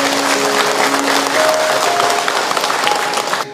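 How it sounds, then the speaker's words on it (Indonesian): Applause from a mostly female audience at an Islamic religious lecture, sustained, even clapping from many hands, with a faint steady tone underneath, ending abruptly. "Tepuk tangan buat ibu-ibu semua."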